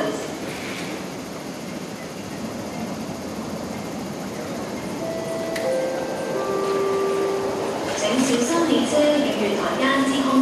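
An MTR Tuen Ma Line train pulls into platform 1 at Nam Cheong station, a steady rumbling roar that builds over the final seconds, with brief tonal squeals and whines from the train as it arrives.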